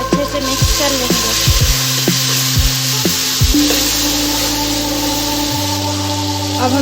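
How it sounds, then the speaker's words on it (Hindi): Beef yakhni pulao sizzles loudly in a pan while lemon juice is stirred in, with steady frying hiss and repeated scraping, knocking stir strokes throughout. "अब हम इसमें ऐड करेंगे नींबू का जूस, अच्छे से मिक्स कर लेंगे।"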